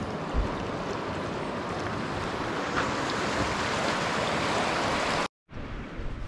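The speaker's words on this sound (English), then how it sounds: "This is the River Corket," The River Coquet flows on a wintry hill walk near Barrowburn, giving a steady broadband rushing of water, moderately faint and continuous, broken by a brief dropout near the end.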